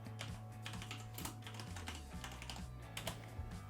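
Fingers type a chat command on a computer keyboard, a brisk run of close, crisp key clicks with irregular rhythm, a few louder taps standing out, over a low electrical hum.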